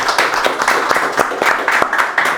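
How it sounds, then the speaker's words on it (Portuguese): A church congregation applauds after a sermon at a Brazilian evangelical men's gathering, a moderate, fairly steady clapping of a small crowd with sharper individual claps standing out. "Vamos aplaudir"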